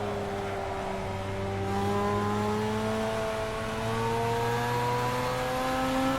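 A race car in a racing game at full throttle, its engine holding a loud, steady high whine that climbs slowly in pitch as it accelerates, with no speech over it.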